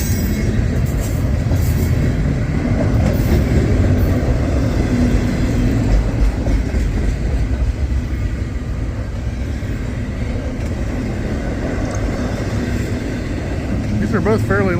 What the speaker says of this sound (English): They're both fairly long trains.